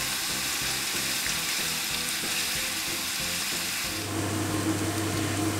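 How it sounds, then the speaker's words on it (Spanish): Onion sautéing in lactose-free margarine over medium heat, a loud close continuous sizzle that turns brighter and stronger in the final seconds, with no talking. "y vamos a tener pochando la cebolla durante unos 5 minutillos a fuego medio"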